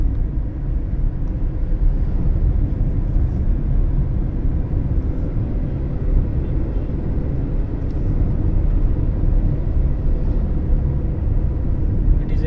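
Steady cabin noise inside a moving Tata Nexon CNG with a turbocharged three-cylinder engine: a constant low rumble of engine and road, loud and even throughout with no clear talk.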